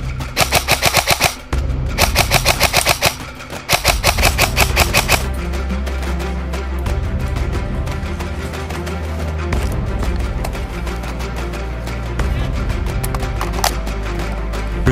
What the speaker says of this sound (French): ça tire à gauche.